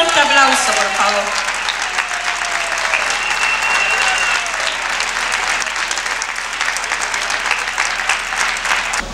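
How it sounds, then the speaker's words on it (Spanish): A crowd breaks into loud, sustained applause, dense clapping that carries on for several seconds and fades slightly toward the end. "Un fuerte aplauso, por favor."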